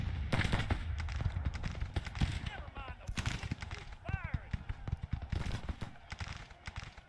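Gunfire in the Civil War strategy game Grand Tactician, scattered musket shots and crackling volleys in an ongoing battle, with distant shouts mixed in.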